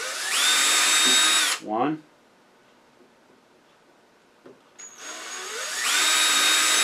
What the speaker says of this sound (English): we're just going to drill through straight up and down